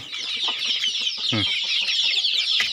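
Chickens being let out on a chili farm cluck and chatter steadily nearby, with a few sharper squawks over a continuous farmyard bird chorus.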